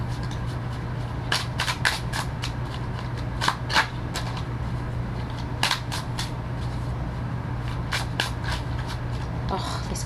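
Tarot cards are shuffled and riffled in a series of crisp, papery bursts over a steady low hum, with a voice talking quietly in the background.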